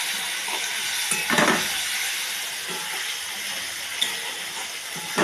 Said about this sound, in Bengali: এই টমেটো ছেড়ে দিলাম, এবার একটু নাড়াচাড়া করব।